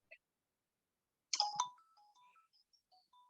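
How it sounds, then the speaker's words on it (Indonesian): A phone ringtone sounds in a classroom setting, a short bright burst of chiming tones followed by a faint trailing melody of sparse notes. "saya angkat telepon dulu"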